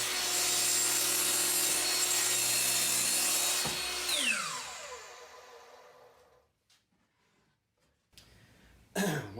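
A handsaw cuts a wooden rail for a toy horse to length in a workshop, loud steady rasping strokes for about four seconds that slow and stop, followed by a quiet gap and a few faint knocks at the end.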